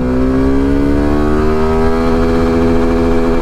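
A Suzuki V-Strom SX250 motorcycle accelerates hard in first gear toward top speed, a loud, steady engine note climbing in pitch without a break, with no talk over it.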